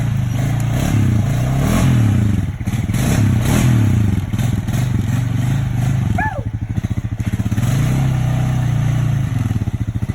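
Off-road vehicle stuck in the bush, engine revving hard and loud with wheels spinning and clattering, sustained throughout with brief dips, a short voice cutting in midway.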